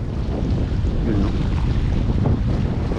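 Strong sea waves break against a rocky shore with heavy wind buffeting the microphone, a loud, continuous roar of surf and gusts with no voices.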